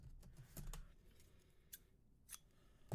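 Scissors snip through crochet yarn while finishing a granny square eye, a few quiet close cuts in a soft room with no talking.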